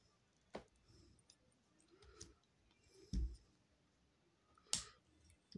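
Sharp plastic clicks and snaps at irregular intervals, close by, as the arm parts of a Transformers Legacy Velocitron Speedia 500 Crasher figure are clicked into place, with faint handling noise between them.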